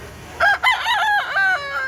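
A young rooster (stag) crows loudly and close at a poultry expo in Talisay, Cebu, one long wavering call with distinct rising and falling segments.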